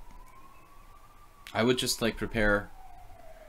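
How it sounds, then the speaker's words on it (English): A Hungarian ambulance siren wails steadily in the background, a faint continuous tone running under a short burst of nearby speech. "Now you hear your first Hungarian ambulance for the year."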